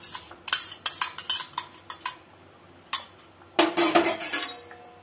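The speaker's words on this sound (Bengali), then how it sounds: "এইবারে সবার লাস্টে পোস্ত বাটা দিয়ে দেব মাছে" Poppy seed paste goes into a pan of fish curry and gets stirred, with a run of sharp metallic clinks and scrapes of a utensil against the pan, loud and close, then a denser burst of scraping near the end.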